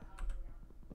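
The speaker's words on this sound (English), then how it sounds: "I'm also sorry that you guys hear, like, my keyboard and mouse clicking" A computer keyboard and mouse click during a Minecraft roleplay session: a few quick, soft taps in a short burst, close and quiet.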